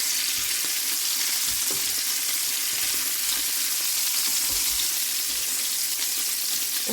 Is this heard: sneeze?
no